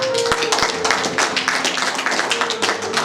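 A church congregation applauding during a pastor's sermon, dense continuous clapping from many hands filling the room, with a few sharper individual claps near the front.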